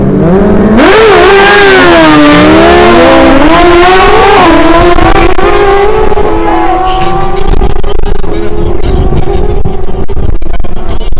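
Loud motorcycle engines roar and rev hard in a quarter-mile drag race in Barranquilla, pitch climbing through gear shifts as the bikes race away, the sound slowly thinning as they recede.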